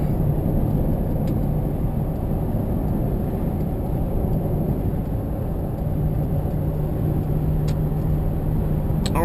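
2002 Chevrolet Suburban cruising on the freeway at around 70 to 80 mph, a steady, even interior drone of engine, tires and road rumble with no talk.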